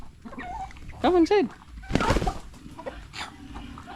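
Backyard chickens clucking and calling in a few short bursts, with fowl including a turkey nearby, while a person speaks briefly in between.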